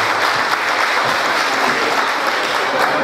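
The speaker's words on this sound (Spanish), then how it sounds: "Después de la baterista, un aplauso para" An audience claps for a band member during a regional group's stage presentation. The applause is thick, continuous and loud from start to finish, with no talk over it.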